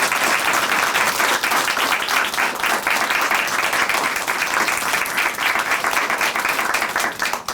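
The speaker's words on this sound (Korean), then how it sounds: "큰 박수 보내드릴게요" A church television show audience applauds a guest testimony in a studio, producing steady, dense clapping that stays loud and even throughout.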